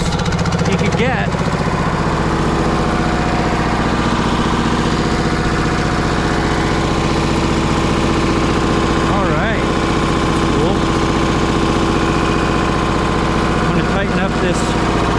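Lister engine running steadily, a loud, continuous thrumming drone with a fixed idle rhythm throughout, while someone talks over it now and then.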